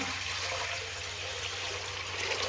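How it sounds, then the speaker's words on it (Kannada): Water pours steadily into a cooking pot for Mandya-style mudde, a soft continuous splashing over a low background hum, with no talking. "ನೀರು ಹಾಕೋಣ"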